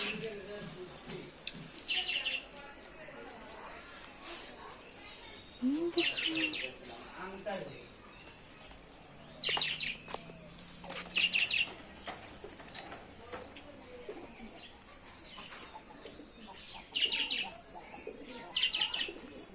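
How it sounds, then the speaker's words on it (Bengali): Lovebirds sitting out in the sun at a home aviary give repeated bursts of high, shrill chirps, several clusters spread through the stretch, with faint coos, a brief flutter and a low murmur of background voices. "লাভবার্ড"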